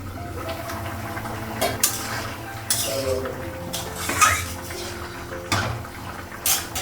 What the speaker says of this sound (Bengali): ডিমটা লাগাবো, ঢাকা দিলাম, ঢাকনাটা উঠালাম।